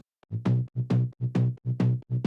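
Gritty analog-style synth bass from Analog Lab plays a bouncy pattern, each note opening bright and snarling before closing down, loud and alone.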